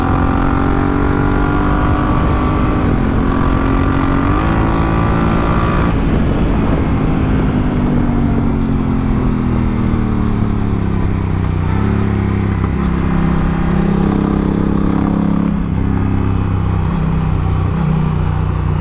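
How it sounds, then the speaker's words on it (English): A Honda Africa Twin CRF1000L police-spec motorcycle rides laps on a track, its engine loud and close, with the pitch rising and falling through gear changes and throttle. "that's a couple laps on the Honda"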